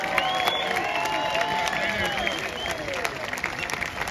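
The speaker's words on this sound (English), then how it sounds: "Kelly, darling, let's have a round of applause for Kelly." A crowd at a London protest applauds and cheers in a steady outdoor wash of clapping, with voices and whistles mixed in.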